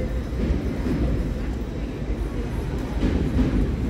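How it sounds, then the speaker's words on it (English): A train rumbles overhead above London's Borough Market, a continuous low roar filling the space with faint market chatter underneath. "Train just above"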